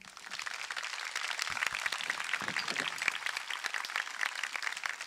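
An audience claps steadily for several seconds, a dense, even patter of many hands heard from within the room.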